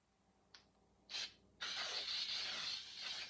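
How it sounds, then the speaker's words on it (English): Two short hissing bursts from an aerosol can of oil-and-flour baking spray into a cake pan, then a long continuous spray, close and fairly loud, with no talking. "I'm just going to spray mine. It's a mixture of the oil and the flour."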